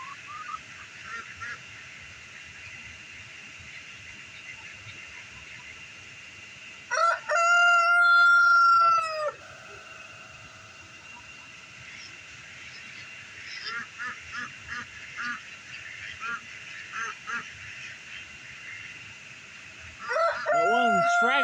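A rooster crows loudly in a burst of harmonic calls, then again at the end, over a steady background hum with faint clucking between, near ducks.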